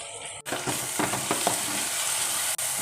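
Curry leaves and coriander sizzle in a pan of tomato and onion masala, with a loud, continuous frying hiss broken by a few quick stirring scrapes early on. Nobody speaks.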